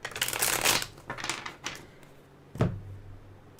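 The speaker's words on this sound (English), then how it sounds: "let me shuffle a little bit" Tarot cards being shuffled, a crisp papery riffle with flutters and taps that ends in one sharp knock, close up and alone, with a low hum behind.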